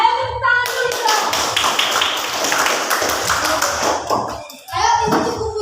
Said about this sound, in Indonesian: Ayo tepuk tangan dulu dong.